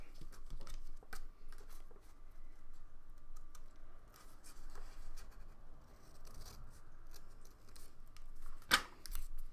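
Scissors trim a small paper flap off a freshly made envelope fold during a crafting session: soft, scattered snips and rustles in a quiet room, with one sharper, louder cut near the end.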